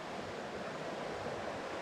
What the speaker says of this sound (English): this water's moving pretty quick